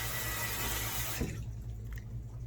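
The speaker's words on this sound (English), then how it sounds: "turn off the faucet with a clean paper towel" A running water faucet gushes steadily into a sink and is then shut off, leaving a quiet room with faint hum and a few soft drips afterward.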